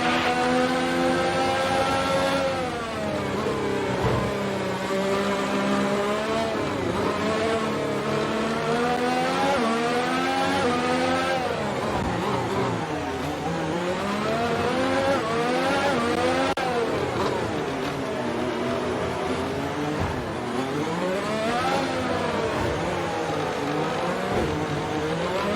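A Formula 1 car engine from the F1 2019 racing game screams through the Monaco Grand Prix, with repeated high-pitched revving, rising upshifts and dips as gears change, loud and continuous throughout.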